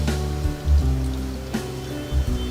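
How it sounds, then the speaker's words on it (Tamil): Lentils, toor dal with a spoon of chana dal, are rinsed in water in a home kitchen, with a few soft sloshing bursts over a steady low hum. "இந்த பருப்பு நல்லா நான் அலம்பிட்டு"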